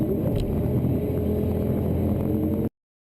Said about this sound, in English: That jump was just the downshift.